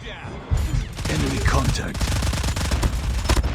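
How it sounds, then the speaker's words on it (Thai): Rapid automatic gunfire from a Fennec submachine gun in the mobile shooter Call of Duty Mobile, sounding as dense, loud bursts of fire that continue for most of the few seconds after a brief quieter opening. "โหยิงอย่างนี้ยิงยากมาก"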